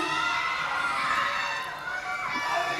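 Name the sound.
crowd cheering at a red carpet event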